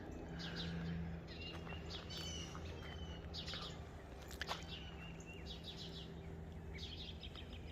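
Many birds chirp and tweet at once in a dense, busy morning chorus over a steady background hum, with no pauses in the calling, outdoors in Nebraska.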